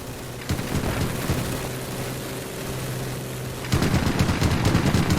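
Strafing machine gun fire in the WWII game Gates of Hell, heard as a dense, continuous rattle under a steady droning aircraft tone, swelling into a louder, harsher burst in the final second and a half.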